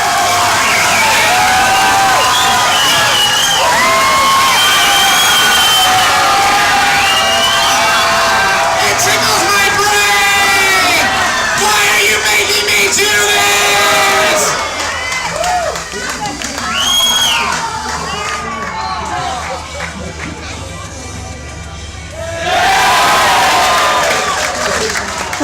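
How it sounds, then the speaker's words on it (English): A sideshow crowd at a fringe festival in Adelaide cheers, screams and whoops loudly and continuously during an electric drill act, with shouting and applause that dip briefly before surging back. "So you can hear the crowd screaming."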